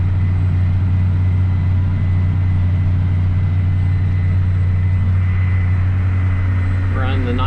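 A John Deere 9520T tractor pulls a cultivator through cereal rye residue, its engine a steady loud low drone throughout, with a voice talking over it.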